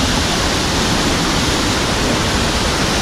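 Waterfall rushing beside a hiking trail, a dense, steady roar of falling water that fills the whole clip at close range, loud and unbroken with no voices.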